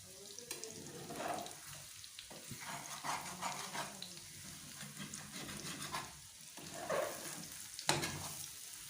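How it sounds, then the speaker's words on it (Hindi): Egg curry with spring onion gets mixed in a frying pan: soft, uneven scraping and stirring strokes over a low sizzle, fairly quiet and close, with no voices. "अब हम इसे मिक्स कर लेते हैं।"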